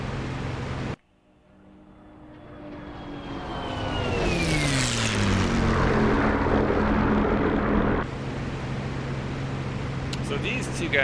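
A Bf-109 fighter's piston engine in a combat flight game: a steady propeller drone whose pitch sweeps down, then swells into a loud rushing roar before settling back, with a voice talking over it.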